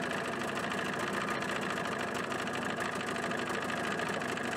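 A 1979 Evinrude 35hp outboard motor fitted with sound deadening runs steadily at close range, giving a continuous even buzzing drone that never changes pace.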